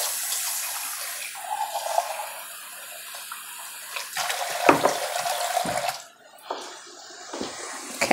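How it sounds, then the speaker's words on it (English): Water pours steadily from a tap into a pot, a continuous splashing rush that pauses and resumes with some clatter. "I'm gonna put a little water in there"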